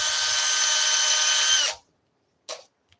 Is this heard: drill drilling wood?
yes